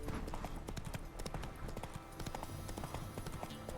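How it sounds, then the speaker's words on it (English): Hooves clip-clop in a quick, steady trot from the horse in The Witcher 3, close and fairly quiet, with no speech. "Not so fast, Roach"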